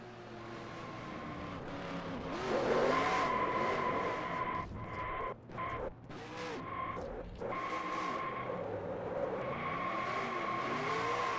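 A stock car at a dirt-track race in Las Vegas, the 21 Mopar machine doing a smoky burnout on the front stretch, roars steadily with tire noise and other race cars circling, loud and continuous throughout.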